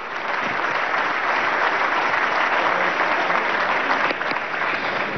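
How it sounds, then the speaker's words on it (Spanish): Steady applause fills a session of Venezuela's National Constituent Assembly, a dense, continuous clatter of many hands that holds at an even loudness throughout with no pauses. "le damos un aplauso una vez más a Eduardo Piñate"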